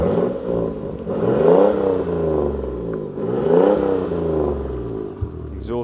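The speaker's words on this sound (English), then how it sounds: "The exhaust sounds pretty wicked" A 2003 Toyota Aristo V300 Vertex Edition's exhaust revs twice, each rev rising in pitch and then falling back to a throaty idle, close by, with a faint click near the end.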